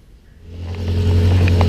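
Small BMC engine of a 1962 Austin Healey Sprite swelling from quiet to a close, steady revving drone as the car pulls away, with light rattles over the top.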